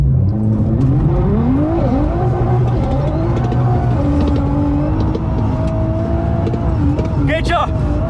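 High-revving race engines of an R35 GTR and a 1000 hp S4 blare together at a ski-slope drag race event, pitch climbing through gear changes, with a crowd and voices audible underneath.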